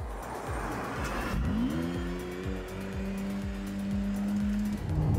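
A McLaren Artura's hybrid V6 wakes up and accelerates hard out of the pit lane, its engine note climbing steadily through the gears, loud and close, with no talk.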